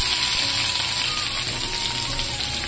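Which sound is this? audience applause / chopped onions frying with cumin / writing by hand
chopped onions frying with cumin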